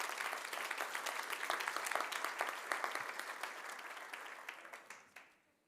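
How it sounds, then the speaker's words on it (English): Conference audience at an education event breaking into sustained, dense applause that gradually thins and fades out near the end, with no voices over it. "give yourselves a round of applause before we get started."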